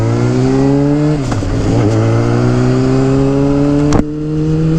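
A 2007 Honda CBR600RR motorcycle pulling away in first gear, its loud, close engine tone rising steadily with a brief dip around a shift and a sharp clack near the end.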